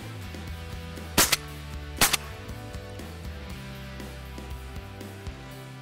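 Two sharp shotgun blasts ring out about a second apart during a dove hunt in Texas, loud and close against a quiet outdoor background.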